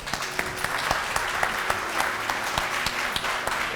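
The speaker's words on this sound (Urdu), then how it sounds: "علامہ مسعودی صاحب کے لیے بہت ساری تالیاں" Studio audience applause welcoming a guest on a Ramadan TV talk show, steady dense clapping throughout with sharp individual claps standing out, no talking.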